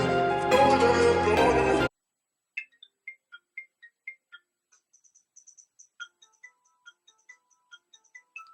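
A phone ringtone playing a video game theme chimes in a quick series of light, bright plinking notes, faint and alone after a burst of loud music cuts off.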